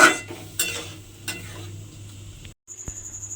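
A spoon scraping and clinking in a pan as dal is stirred into ridge gourd curry, a few distinct strokes over a soft simmer, close and clear, with a short silence before a final knock.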